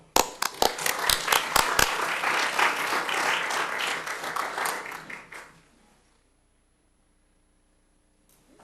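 An audience at an evening lecture on crisis, citizenship and journalism applauds to welcome the speaker, with a few sharp early claps swelling into dense, steady clapping for about five seconds before fading into near silence.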